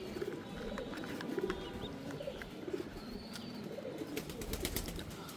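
Domestic pigeons coo softly in the background of a loft, low murmuring calls repeating amid faint rustling and a few sharp clicks, with no voices.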